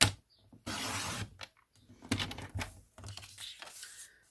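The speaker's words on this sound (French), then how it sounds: "je vais découper 4 cm pour ma banderole" Paper strip being cut for a pop-up card banner, close, with a few separate bursts of crisp cutting and rustling broken by short silences.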